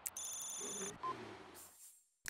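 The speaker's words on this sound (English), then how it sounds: "You gonna answer your phone?" A phone rings inside The Sims 3, heard as a steady synthetic electronic ring with repeated tonal bursts over the game's background music, then breaking off suddenly and dropping into near silence.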